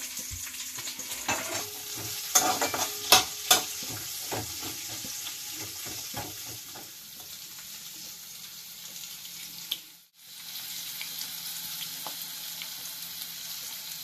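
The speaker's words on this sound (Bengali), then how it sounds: "পেঁয়াজ আর বাদাম একসাথে ভেজে নেব" Steady sizzling of onions and peanuts frying together in a pan, with scattered clinks and scrapes of stirring, a brief dropout near the end before the sizzle resumes.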